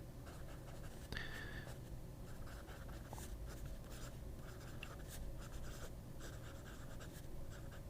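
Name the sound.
Pelikan fountain pen nib writing on paper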